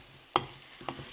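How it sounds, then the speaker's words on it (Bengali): Pumpkin and potato pieces fry in a pan, a soft continuous sizzle broken by two sharp stirring scrapes, close and fairly quiet, with no voices. "কুমড়ো আর আলুটা ভাজা হয়ে গেছে।"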